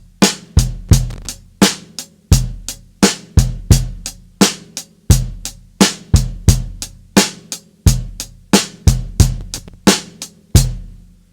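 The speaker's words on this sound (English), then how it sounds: "and then we move on to do what I call Rock Rhythm No.1" A drum kit plays a beginner rock rhythm at a moderate, even tempo: sharp, ringing hits alternate between deep bass thumps and brighter snare and cymbal strikes, close and clear with no talking.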